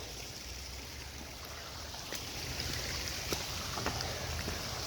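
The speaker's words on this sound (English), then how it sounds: "Little babbling brook." Small babbling brook in the rain, a soft steady trickle and gurgle of flowing water with faint patter, quiet and continuous, growing slightly fuller toward the end.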